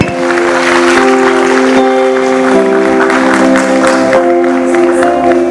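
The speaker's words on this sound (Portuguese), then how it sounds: "A salva de palmas para o Senhor Jesus" Congregation applause in a church at a missionary conference, sustained and loud, with steady tonal hum or music lines running beneath the clapping throughout.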